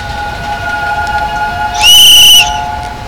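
A sharp, loud whistle, likely a guard's whistle, blows once for about half a second over the steady hum and drone of a train in Train Sim World.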